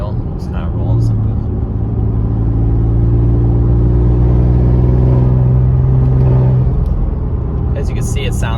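A Ford Raptor fitted with a K&N cold air intake revs up: a loud, steady engine drone rising and holding for several seconds before easing off, heard from inside the truck, with talk around it.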